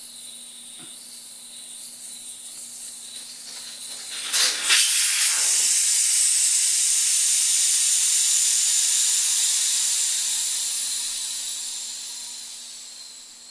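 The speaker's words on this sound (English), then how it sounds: "So there was still some air in there. That's surprising. Allow the tire to deflate." Air rushes out of a flat lawn mower tire through an open valve stem with the core removed, a sudden loud hiss that begins abruptly and holds steady before slowly fading.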